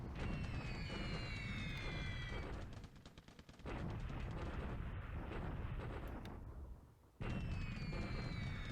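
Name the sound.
anti-aircraft flak fire in War in the Pacific video game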